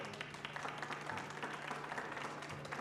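An audience at a school board trustee candidate forum applauds the candidates, steady dense clapping filling the room throughout, moderately loud with a faint hum beneath.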